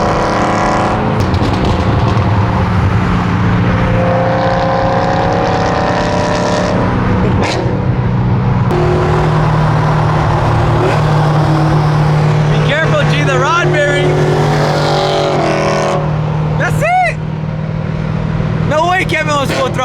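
A car accelerates hard at full throttle, its engine loud and close over a dense, steady roar with some squealing, rising sweeps. People talk over the engine noise.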